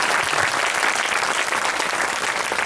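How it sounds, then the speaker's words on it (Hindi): A church congregation at a Christmas sermon claps to thank God, a dense, loud, continuous burst of applause filling the whole stretch. "आइए परमेश्वर का धन्यवाद करें ताली बजाकर।"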